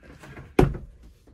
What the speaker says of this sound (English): Wardrobe door there.